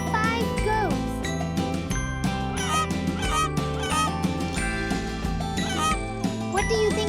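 Geese honking on a farm in a children's counting lesson, several bird calls sounding over a loud, busy musical backing with jingling tones throughout.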